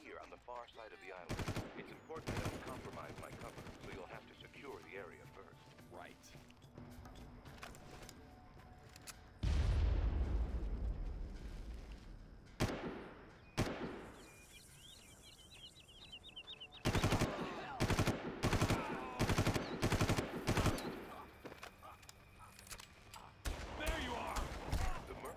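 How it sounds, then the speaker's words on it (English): Gunfire in the video game Far Cry, bursts of automatic fire and single loud shots scattered among heavy booms and quieter gaps, close and intermittent, with a person talking in between. "People are shooting at me."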